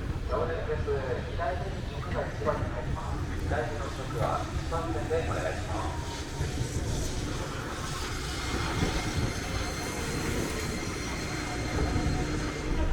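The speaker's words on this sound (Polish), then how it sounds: "To zwykły tramwaj." A streetcar in Fukuoka, Japan, rumbles past with a steady low mechanical drone and rail noise throughout. Muffled talk shows up faintly in the background.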